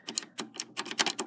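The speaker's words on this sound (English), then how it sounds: "I'm clearly clicking the power." Power button being clicked on a Nintendo console, several sharp plastic clicks and rattles in an irregular burst, close and fairly quiet, with no voices.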